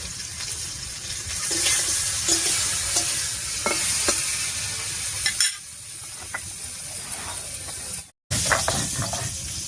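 Bitter gourd sizzles steadily in hot oil in a pan, with occasional stirring scrapes and clinks, close and constant, broken by a brief cut near the end.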